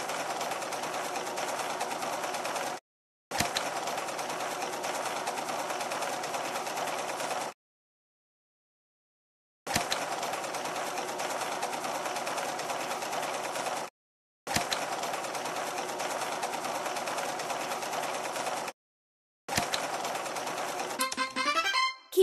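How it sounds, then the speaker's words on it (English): Sewing machine stitching a skirt in an Android fashion dress-up game, a steady mechanical whirring run in several bursts separated by short silences, loud and alone. "Sew a skirt."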